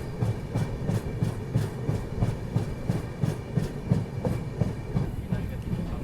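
The Dibrugarh Rajdhani Express running through Moradabad yard, heard from inside the coach: a steady rolling rumble with evenly spaced clickety-clack beats of wheels over rail joints, close and continuous.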